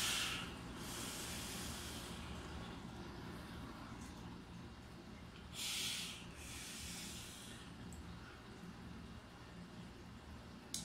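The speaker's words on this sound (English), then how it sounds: "So I'm firing it up at 35 watts and let's see how it goes." A Doge v3 clone vape atomizer coil fires at 35 watts, giving a faint, steady hiss and crackle that runs throughout, with a couple of brief louder bursts partway through.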